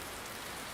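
Steady rain falls on a surface, an even, soft hiss of many drops with no distinct individual impacts, faint and continuous across the whole moment.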